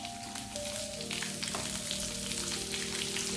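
Crushed garlic and green chillies fry in hot oil, giving a quiet, steady sizzle with faint crackles and no voices.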